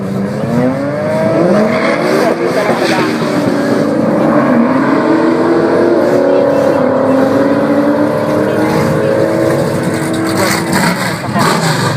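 Street race cars launch from the start line at Rauma Street Race 2014, their loud engines revving and rising in pitch through sustained acceleration close by, with a crowd murmuring beneath.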